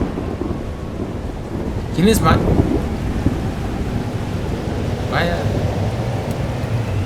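Thunderstorm in the video game Life is Strange: Double Exposure: a dense, steady wash of heavy rain and low rumbling throughout, loud and enveloping, with a brief spoken question and another short voice over it.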